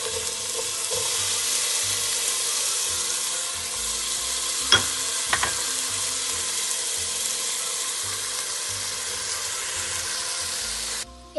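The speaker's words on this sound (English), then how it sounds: "Now you can add the veggies." Vegetables frying in a pan for spicy chipotle pasta, a steady loud sizzle running throughout, with two brief sharp clinks of a utensil midway.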